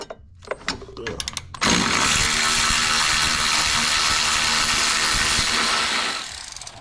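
Ratchet wrench loosening a bolt on a car starter during a no-crank, no-start repair: a few scattered clicks, then a continuous loud rapid ratcheting buzz lasting several seconds before it stops, close up.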